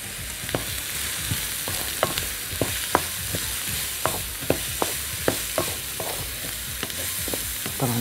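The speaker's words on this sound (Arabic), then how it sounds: "والكرفس والجزر، وعايزه اديهم تحميره مع بعض" Celery and carrots frying together in a pot as the base for Moroccan harira soup, with steady sizzling broken by repeated sharp scrapes and clicks of a spoon stirring, close and clear, no talking.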